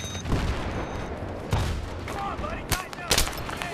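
Bursts of gunfire crackle in a Battlefield 3 match on Nebandan Flats, several sharp volleys and single shots over a busy rumbling battle background, with some voice underneath.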